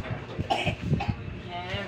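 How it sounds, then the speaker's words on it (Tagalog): A few short coughs and throat-clearing sounds, close and fairly quiet, mixed with brief murmured voices. "Maluwag na ang ubo."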